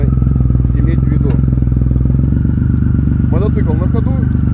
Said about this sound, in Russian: Мотоцикл на ходу